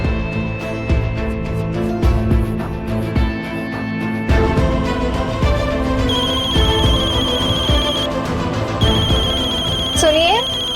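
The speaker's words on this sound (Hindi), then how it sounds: "सुनिए, आपका फोन बज रहा है।" A mobile phone plays a melodic electronic ringtone that keeps repeating, with tonal chimes sounding over background music and talking in a Hindi television drama scene.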